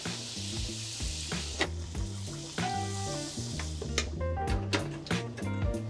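Battered fish, dipped straight into the batter without dredging, deep frying in oil at 375 degrees, giving a steady loud sizzle with scattered crackles and pops throughout.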